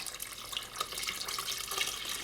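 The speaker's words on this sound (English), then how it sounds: "I want to add in all of my water." Water pours in a steady splashing stream onto sugar in a pot for gulab jamun syrup, continuous and close for a couple of seconds.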